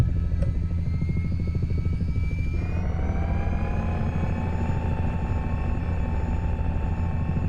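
A simulated H-60 helicopter in Flight Simulator 2020 spools up for takeoff, a loud continuous rotor thrum and turbine whine, the pitch shifting upward partway through and then holding steady.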